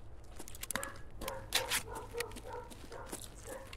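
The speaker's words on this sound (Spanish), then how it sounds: "¿Arrancó el perrito?" A small dog yips and whimpers indoors, a few short high barks scattered over several seconds at moderate distance.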